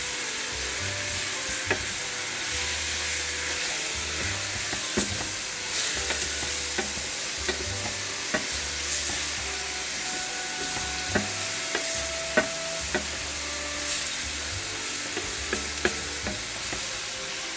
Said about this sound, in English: I mix it so all the flavor is all over the calamari.